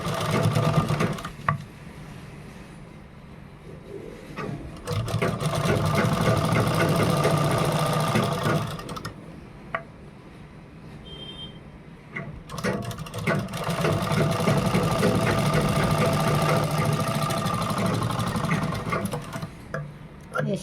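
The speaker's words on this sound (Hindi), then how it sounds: "उसके बाद हम यहाँ पे इस तरह पलट कर सिलाई लगाएंगे" A sewing machine stitches a designer blouse, whirring loudly in long sustained runs that briefly slow and stop between passes.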